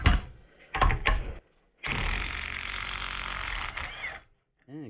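A Metabo HPT Hikoki 36V multi-volt cordless 1/2-inch impact wrench loosening a bolt. Short bursts come first, then a sustained loud hammering run that cuts off sharply, heard up close.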